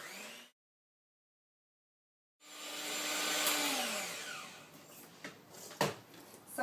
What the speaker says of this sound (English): we're going to add the 1 cup of sugar. And we're going to continue mixing them.